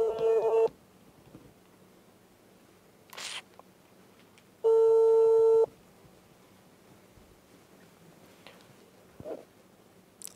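Telephone line tones during an outgoing call: two loud electronic tone bursts, one brief at the start and a longer one midway, separated by quiet stretches with faint clicks and rustles, no voices.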